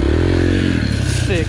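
Yamaha TTR 125 dirt bike popping the clutch with its rear wheel against a tree, a loud close engine roar with rising rev and clattering under it.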